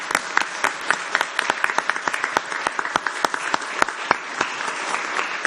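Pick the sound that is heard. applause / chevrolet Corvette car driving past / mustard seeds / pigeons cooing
applause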